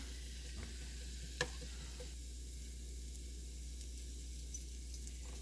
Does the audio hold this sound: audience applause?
no